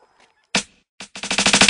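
Cartoonish explosion effect in a Skittles parody ad: one sharp burst, a brief pause, another hit, then a rapid run of about eight loud, close blasts building in intensity like gunfire.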